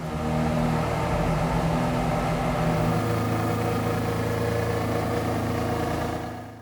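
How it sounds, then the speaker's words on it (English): A Ferrari car engine runs steadily at a low, rumbling idle, close and loud, with a faint shift in tone partway through before it cuts off at the end. "you guys are going to hear what the engine sounds like"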